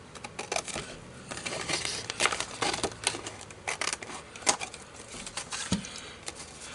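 Scissors snip through thin paper card, cutting out pieces for a chemistry model, in a quick run of close, crisp cuts with short pauses and faint rustling between them.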